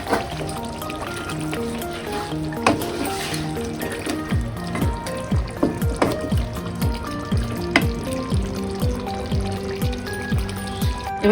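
Potatoes slide into a pot of thin mutton curry with potato, giving a loud, wet, bubbling sizzle and splashing with repeated rhythmic liquid plops, close and continuous, and no voices.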